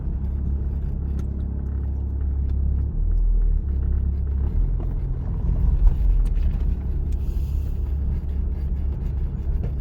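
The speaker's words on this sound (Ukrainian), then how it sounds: "Вмикаємо першу передачу, об'їжджаємо ями, наскільки це можливо." A car in first gear pulls away on a driving test route, steering around potholes. The low engine rumble rises slightly as it moves off, then holds steady and moderately close with no talking.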